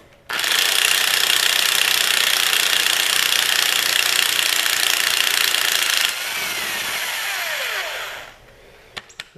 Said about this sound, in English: they don't come out with this impact, so these are in here pretty weak.